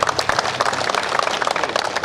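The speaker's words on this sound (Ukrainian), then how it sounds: "Вітаємо оплесками." An audience at a district football awards ceremony gives a lively round of applause, many hands clapping in a brisk, uneven patter that stays loud and close throughout.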